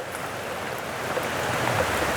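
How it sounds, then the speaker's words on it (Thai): Rain falls steadily in rural Thailand, a continuous, even hiss of drops with faint patters and no voices. "ฝนตก แค่ฝนมา"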